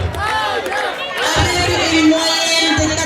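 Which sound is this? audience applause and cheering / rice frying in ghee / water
audience applause and cheering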